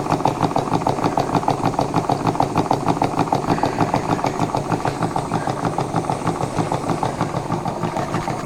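Steam plant engine nicknamed Barti Ddu running steadily with its governor spinning, a continuous rhythmic mechanical chuffing and clatter at an even beat, close and fairly loud throughout with no talking.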